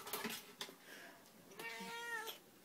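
A fat cat struggling to climb onto a chair, giving a few short strained meows and a longer drawn-out yowl, close by and faint against a quiet room.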